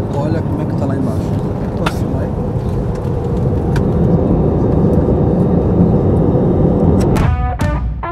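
An airliner landing in Anchorage, Alaska, heard from inside the cabin as a loud, constant roar with sharp clunks and rattles near the end, and voices talking over it.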